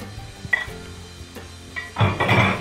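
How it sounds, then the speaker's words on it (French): Mushrooms tumble into a pan of asparagus risotto with a few clinks of utensil against cookware, followed by a louder burst of sizzling and scraping near the end. "On ajoute maintenant les champignons."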